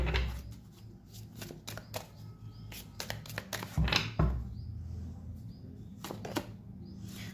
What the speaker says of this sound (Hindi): पहले मैं सारे कार्ड्स निकाल लूं